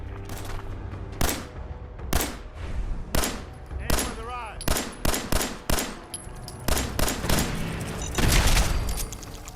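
Gunfire in the video game Fallout 4 during a fight at a Minutemen fort, loud repeated shots and rapid bursts going off close by in an uneven rhythm, some sharp cracks and heavier booms.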